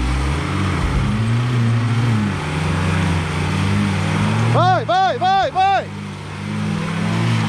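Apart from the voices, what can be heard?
Renault Duster accelerating, stuck in mud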